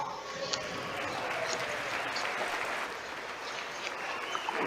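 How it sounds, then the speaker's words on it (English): Sustained applause fills a large chamber at the State of the Union address, a dense, steady wash of many hands clapping at moderate distance with no pauses. "Why isn't Trump clapping"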